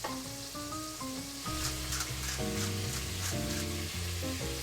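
Ground beef seasoned with salt, red chili pepper and black pepper sizzles steadily in a pan for spaghetti bolognese, a continuous soft frying hiss beneath louder background music.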